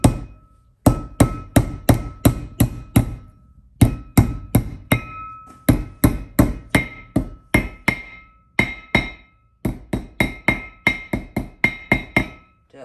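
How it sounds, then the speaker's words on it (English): Steady close-up hammer taps seat a brake seal into a wheel hub on a 1941 Chevy disc brake conversion, dozens of crisp metallic knocks in quick bursts with brief pauses between runs. "so you want to tap the seal in the same way too as you did that side"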